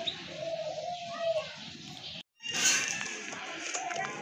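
Pigeons, including large Bombay pigeons, coo and call at a pigeon farm, a soft murmur of birds with a brief silent break partway through.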